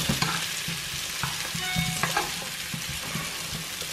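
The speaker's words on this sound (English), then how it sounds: "that's the potatoes just now getting a stir" Potatoes fry in a pan, a continuous crackling sizzle broken by soft scraping and knocking as they are turned and stirred, with a few short metallic rings midway.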